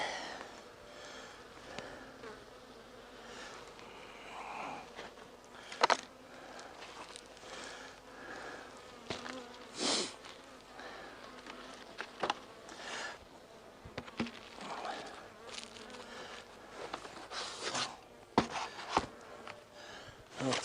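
Honeybees buzz steadily around a hive while winter patties are being added, a low continuous drone broken by occasional knocks and handling clatter, with no talking.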